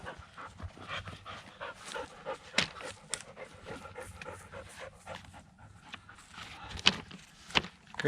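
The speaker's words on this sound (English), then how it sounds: "Crazy dog." A dog pants rapidly and close by at a tarp shelter campsite, a steady rhythm of quick breaths with a few sharper bursts and faint rustling movement around it.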